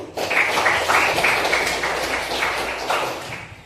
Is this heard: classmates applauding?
yes